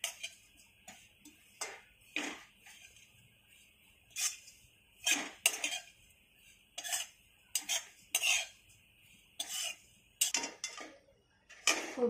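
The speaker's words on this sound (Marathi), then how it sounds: "खोबरं सुद्धा आपल्याला इथे छान खरपूस असं भाजून घ्यायचं" Grated coconut being dry-roasted in a pan for urad and moong dal laddus, with a spoon scraping and stirring in a series of short, irregular clinks and scrapes close by, with no talking.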